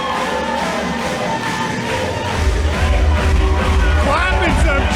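A wrestling crowd at a WPW Street quarter-final match roars and yells, the noise swelling louder partway through, with a commentator's voice talking over it.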